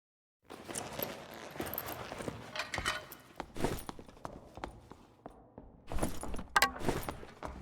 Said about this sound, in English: as I get up I hear footsteps approaching